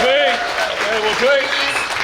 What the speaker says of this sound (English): one last round of applause for Patrick